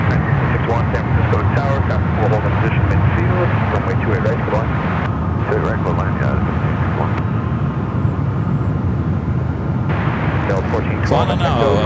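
A jet airliner rolls on runway 28 right at San Francisco International Airport, a steady broad engine roar holding loud through the whole stretch while people talk over it.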